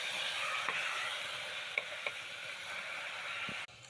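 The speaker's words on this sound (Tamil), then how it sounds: "அதை நல்லா வதக்கி விட்டுடணும்." Ginger-garlic paste and chopped tomatoes sauté in a pan with a soft, steady hiss of frying, broken by a few light taps of a stirring utensil before it cuts off.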